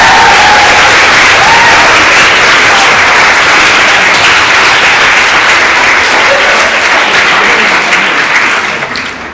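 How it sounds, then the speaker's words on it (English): A crowd at a student representative council election results announcement applauds the candidates and campaign teams, loud sustained clapping with a few faint voices mixed in, tapering off at the very end. "we should probably do a little round of applause to all the candidates and campaign teams"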